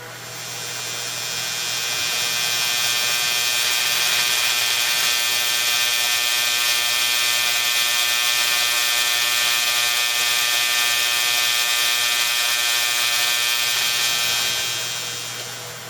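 Tesla coil with a rotary spark gap runs steadily for about fourteen seconds, a loud continuous buzzing hum with strong tonal harmonics that swells up at the start and fades at the end, with no voices.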